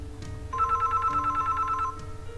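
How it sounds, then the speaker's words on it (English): A phone rings once as a sound effect, a single trilling burst of electronic ring pulses over a low background hum. "But a few more seconds later, he called again."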